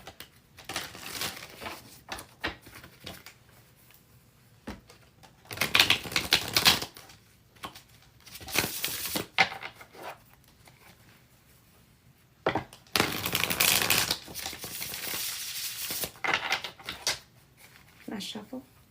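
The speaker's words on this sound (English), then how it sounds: "Last shuffle." Bursts of crisp tarot card riffling and papery shuffling repeat in several loud runs, close to the microphone, with quiet pauses between them.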